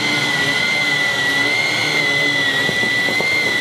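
A VAX Blade 32V cordless vacuum cleaner runs loud and close with a steady high-pitched whine while picking up dirt, and faint rattles of debris come through toward the end.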